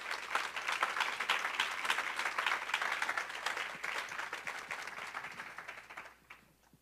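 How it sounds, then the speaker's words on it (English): Audience at a book talk applauding Donna Loring, a sustained round of clapping from a modest crowd that tapers off and fades out near the end. "So Donna Loring, please give her a round of applause."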